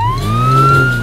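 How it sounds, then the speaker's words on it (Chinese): A police car siren from an animated children's nursery song, one loud, steady electronic wail sweeping slowly upward, with a low engine-like hum beneath it and no voices. "看，孩子们，那是一辆警车"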